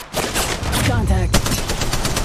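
Loud, rapid bursts of automatic gunfire from the mobile shooter Apex Legends Mobile, played as Bangalore in a ranked match, crackle close-up for about two seconds.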